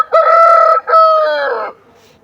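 A Hanjar-type champion rooster lets out a single loud, close crow of about a second and a half, with a brief break near the start, then silence.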